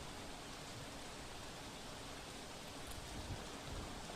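Heavy downpour in the Sagbara and Selamba area of Narmada, a dense, even roar of rainfall holding steady and fairly faint throughout with no voices.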